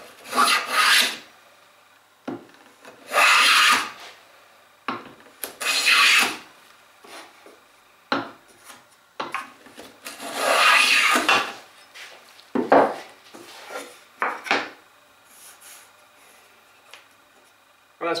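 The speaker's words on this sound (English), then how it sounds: "So now what I'll do is take a set of shavings right the way through from end to end, work across the whole width of the board" A hand plane takes full-length shavings along a wooden table board, repeated rasping strokes in a steady rhythm of loud, close passes with short pauses between them.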